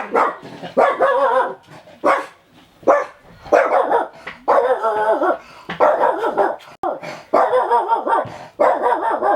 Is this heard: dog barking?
yes